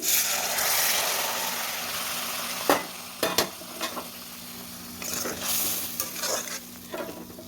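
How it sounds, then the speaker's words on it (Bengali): Heated water being poured into sizzling fried masala in a pan, with a loud hiss at first that eases, followed by several sharp spoon clatters and scrapes and a renewed bubbling sizzle. "এবার এর মধ্যে দিয়ে দেবো গরম করে রাখা জল"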